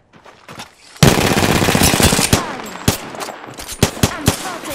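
Rapid automatic gunfire erupts in the Apex Legends video game after a quiet start, a loud dense burst followed by separate sharp shots, close and with no speech.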